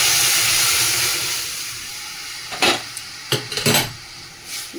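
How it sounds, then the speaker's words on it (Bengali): Dal being tempered in hot oil with turmeric in a home kitchen: a steady hissing sizzle that fades away, followed by a few clinks of a metal spoon against the pot. "দিয়ে এবার ডালটা ফোড়ন দিয়ে দেবো।"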